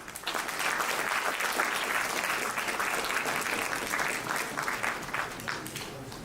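An audience at a start-up expo gives a full round of applause, dense steady clapping from a crowd that holds loud for several seconds and then thins slightly near the end.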